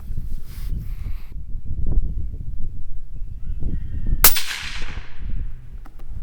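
A single loud, sharp 300 Blackout rifle shot from a Ruger American firing a supersonic handload, cracking over steady outdoor background noise and trailing off in a brief echoing decay.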